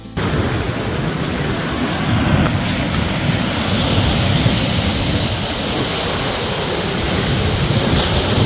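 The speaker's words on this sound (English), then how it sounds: "Watching the waves roll in is the perfect way to end the day in Porto." Ocean waves roll in at Porto as a loud, steady roar of surf, a continuous broad wash of water noise with no talk.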